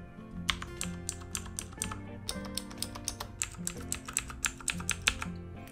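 Rapid typing on a mechanical keyboard with blue clicky switches, a close, crisp run of clacking keystrokes in irregular bursts with a short pause midway, heard alone without talk.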